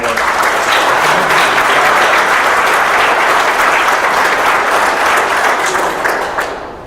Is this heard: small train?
no